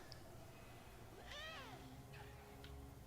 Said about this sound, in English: Did I just hear a cat?